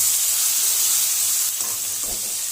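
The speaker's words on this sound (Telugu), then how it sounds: "టమాటా కూడా బాగా ఫ్రై అయ్యేంత వరకు వేపుకోవాలి" Ginger garlic paste and tomatoes sizzling steadily in a pan for a curry, a continuous close hiss with a few stirring knocks near the end.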